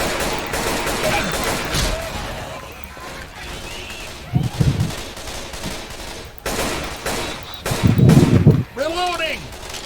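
Gunfire in a first-person shooter video game, with bursts of rapid shots and louder blasts spread through the clip, mixed with game sounds and excited players talking over it.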